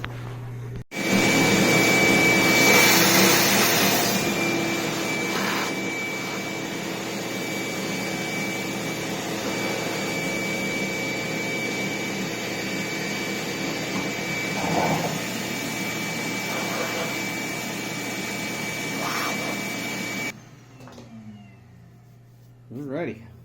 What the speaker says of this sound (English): Let me get a vacuum and vacuum that up.